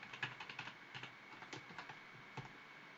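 Computer keyboard keys tapped in a short burst of quick clicks, including a Ctrl plus period shortcut and Enter, close and quiet with no voices.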